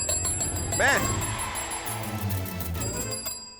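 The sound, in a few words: bell ringing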